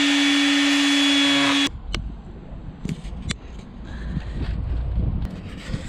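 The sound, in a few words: power tool cutting titanium bike frame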